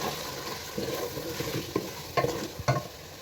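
A spoon stirs a pan of frying spices for potato pulao, among them salt, red chilli, turmeric, garam masala, biryani masala and cardamom. Steady sizzling runs throughout, broken by a few scraping knocks of the spoon, close and clear.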